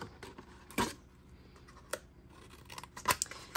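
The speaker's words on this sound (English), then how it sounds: "Right up the center, cut the corners," Scissors snip through a cardboard treat box at its corners, a few crisp, close cuts spaced irregularly with small rustles between them.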